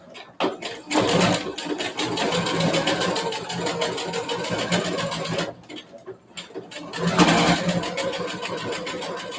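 A sewing machine stitching jeans runs in steady rapid bursts, a close mechanical whir that stops briefly midway and then resumes with fast needle chatter.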